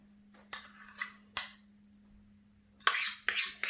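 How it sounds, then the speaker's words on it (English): A pastry blender cuts shortening into flour in a bowl for a lemon cream pie crust, giving scraping, crunchy strokes in a few separate bursts, with louder clustered scrapes near the end. "we're going to mix it in with a pastry blender."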